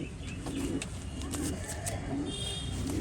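Pigeons coo in a small Bengali hobby pigeon loft, low soft rolling coos repeating near the microphone over a steady background murmur, with a few faint chirps mixed in.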